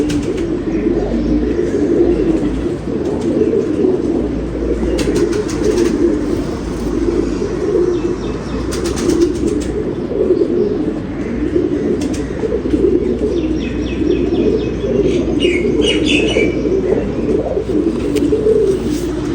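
Pigeons coo continuously in low, throaty rolling calls at a racing-pigeon loft, with occasional wing flaps and faint chirps over a steady outdoor background; no talking.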